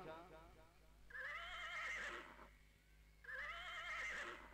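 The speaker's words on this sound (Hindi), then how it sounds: "आज घोड़ा हीकने लगा।" A horse gives two loud, drawn-out whinnies, each lasting about a second with a quivering pitch and a short gap between them, heard close against a low hum.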